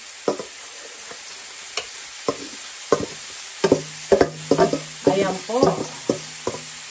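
Rice is stir-fried in a pan for Asian fried rice, giving repeated scraping stirs and clanks of the spatula over a soft sizzle, close and fairly loud, with a brief spoken word.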